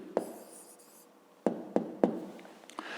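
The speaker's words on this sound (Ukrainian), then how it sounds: "Ну а тепер записуємо відповідь" A pen writes an answer to a fifth-grade maths exercise on paper, making a few close, distinct scratchy strokes and taps in short bursts with quiet gaps between them.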